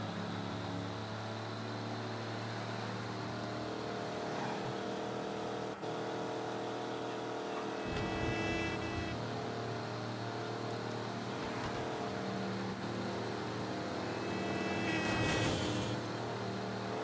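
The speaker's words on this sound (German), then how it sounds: "Die Karre hört sich an, als ob sie gleich hochgeht." A worn-out car in Mafia III that sounds close to blowing up: a droning engine hum that swells into two strained revving surges with whining tones, moderately loud under game ambience, with no talk.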